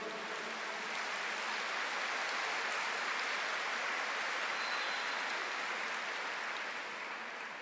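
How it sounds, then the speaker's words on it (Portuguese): Large congregation at a Catholic prayer gathering breaks into steady, dense applause that swells and holds evenly, heard as a continuous wash of clapping from a broad space with no talk over it. "Pode aplaudir."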